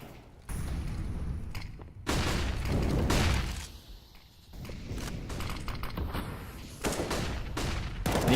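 Rifle fire and bursts of gunshots in a professional Counter-Strike match on the Mirage map at a major tournament, loud and repeated across the stretch with dense game sound effects and no talking.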